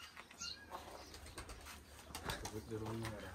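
Pigeons flapping their wings and cooing close by, with a steady rustle of wing beats and soft coos under quiet background murmur.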